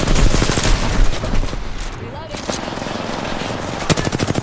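Rapid video game gunfire in bursts of automatic fire, loud and dense across the whole stretch, with voices talking over the shooting.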